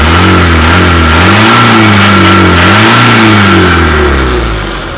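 Isuzu Panther diesel engine revved hard several times, loud and close, the pitch climbing and falling in repeated surges before easing off at the end.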